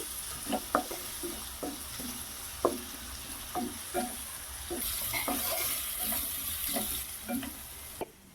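Ginger garlic paste fries in a pan with a steady low sizzle, and a spoon scrapes and stirs through it in irregular knocks. No one speaks over the cooking.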